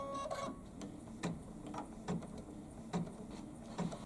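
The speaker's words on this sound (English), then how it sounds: "It's going to do 3 placement stitches." An embroidery machine sewing three placement stitches, a fast mechanical clatter with regular rhythmic ticks and thumps about once per second, close and fairly quiet, no talking.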